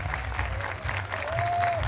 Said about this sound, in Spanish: ustedes se merecen un aplauso por apoyar estas cosas